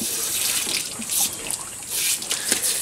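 Water splashing and running in a sow's pen, a continuous wet wash with brief louder surges and drips, close by, with no talking.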